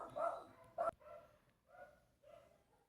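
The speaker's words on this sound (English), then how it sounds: "you guys may hear dogs barking in my background" Neighborhood dogs bark in the background, with two sharp barks up front followed by several softer, more distant yips and woofs spaced out over a few seconds.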